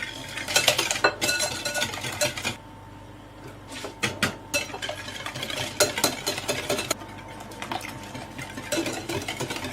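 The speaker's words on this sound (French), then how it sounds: "On mélange vigoureusement tous les ingrédients jusqu'à l'obtention d'un mélange homogène." A whisk or spoon beats apple tart cream filling ingredients vigorously in a bowl, a steady run of rapid clinking and scraping strokes, close and alone.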